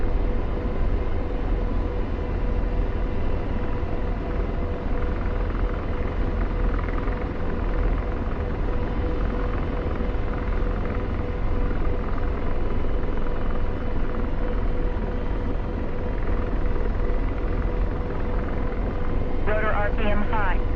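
A helicopter rotor in a combat search and rescue video game throbs with a loud, steady, dense rumble from start to finish, with a brief mechanical warble near the end and no talk.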